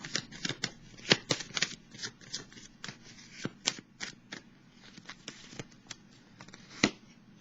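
Tarot cards shuffled and drawn by hand, a string of soft papery flicks and snaps in uneven bursts, close and quiet, with one sharper slap near the end and no talking.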